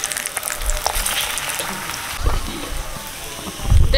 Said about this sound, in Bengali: তেল দিচ্ছি, পরোটা ভাজবো।